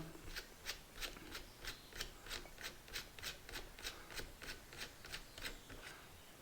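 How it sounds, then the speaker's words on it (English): A wrench works loose the jam nut on an FX Impact M4 air rifle, making a quiet, close run of rhythmic scraping clicks, about fifteen evenly spaced ratchet-like strokes. "Then you need the wrench and release the jam nut or the lock nut."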